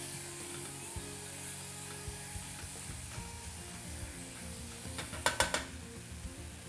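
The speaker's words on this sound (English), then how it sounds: "you need to stir this continuously so that nothing sticks to the bottom of the pan" Apple juice mixture being stirred in a pan: a quiet, steady scraping and faint sizzle run throughout, with a brief cluster of louder clinks of a utensil against the pan near the end.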